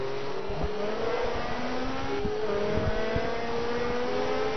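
Race cars in Forza 2, including a Ferrari and a four-wheel-drive Subaru, roar at Sebring, with engines revving up and down through gear changes and overlapping one another, loud and constant with no talking.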